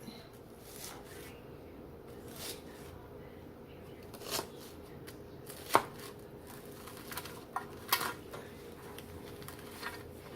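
A knife cuts into a baked cinnamon French toast casserole, giving a few quiet scraping, crunchy taps spread across the stretch, with a sharper cut near the middle, against faint room noise and no speech.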